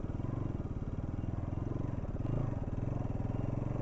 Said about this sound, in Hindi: अपने यहाँ से थोड़ा बाइक को पुश करेंगे